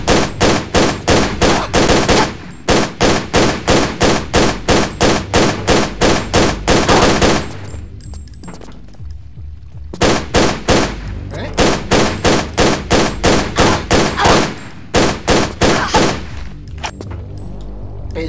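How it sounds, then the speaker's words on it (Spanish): Rapid bursts of gunfire from the Tomb Raider custom level Sanguis Virginis, loud repeated volleys of close shots firing in quick rhythmic strings with brief pauses between bursts. "te disparo y ya está"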